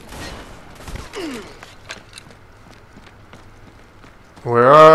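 Shotgun blasts and gunfire in the video game Army of Two: The Devil's Cartel, scattered as sharp bursts amid game noise, with voices talking over the action.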